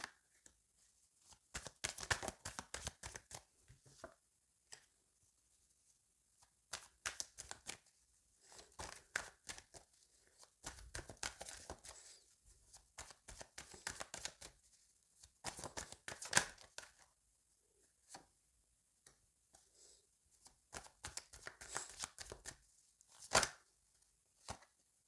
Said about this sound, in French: je vais tirer toutes les cartes et ensuite, je vous ferai un peu la signification du tirage